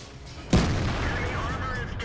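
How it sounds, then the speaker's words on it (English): A single sharp, loud impact of a tank shell striking a tank's upper plate and gun mantlet and bouncing off in World of Tanks, with a brief ringing tail under steady battle ambience. "I just got hit by the Jagdpanzer there, hit my upper plate, hit the gun mantlet, bounce"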